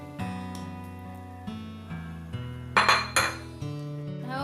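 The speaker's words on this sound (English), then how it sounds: "Now I'll add the fried prawn pieces. And give it a good mix." Fried prawn pieces stirred into prawn biryani in a metal pot, with close spoon scrapes and clinks against the pot and a couple of louder metallic knocks, with no talk.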